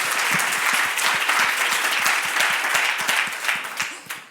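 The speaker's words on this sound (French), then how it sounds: "Attends, on l'a applaudi, Edmond, parce que c'est pas facile, quoi." A conference audience at a business forum applauds with dense, continuous clapping that stays lively throughout, then starts to fade at the very end.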